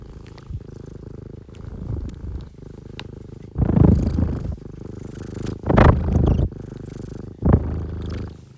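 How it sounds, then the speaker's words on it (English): A cat purrs steadily up close, a low rumbling drone in rhythmic breathing pulses that swell louder a few times over several seconds, with no talking. "Here, listen to Batman purr."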